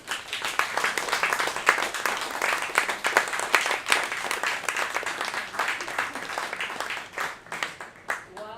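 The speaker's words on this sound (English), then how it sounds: "could we have a huge round of applause for them?" An audience at a live community arts event applauds a writers' group. Dense, continuous clapping carries at a moderate level for most of the stretch, then thins toward the end.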